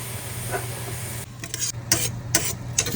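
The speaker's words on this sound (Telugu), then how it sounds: "ఇలా బాగా మిక్స్ చేసుకోండి, కొంచెం ఫ్రై అవ్వనివ్వాలి" Sliced onions, tomatoes and lengthwise-cut green chillies fry in a pan under a soft hiss, then a spoon stirs them in several scraping, rustling strokes.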